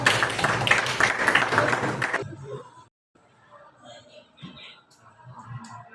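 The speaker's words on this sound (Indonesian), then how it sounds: "Ada tepuk tangan dulu buat Naura." A short burst of clapping from a small group of students in a Bandung school class, a couple of seconds long, fading into quiet room sound with faint movement.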